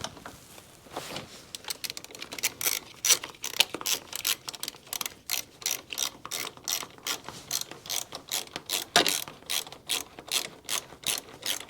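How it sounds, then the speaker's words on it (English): A hand ratchet tightening the top bolt on a Honda Goldwing motorcycle: a long run of rapid, close metallic pawl clicks in repeated strokes with a steady back-and-forth rhythm, heard alone. "Now I can tighten my top bolt."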